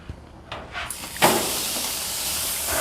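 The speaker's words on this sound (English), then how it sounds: "we want to hear this nice sizzle when I put it on the grill." Marinated tequila lime flank steak hits a hot grill, a couple of short hisses followed by a loud, sustained sizzle that holds steady close up.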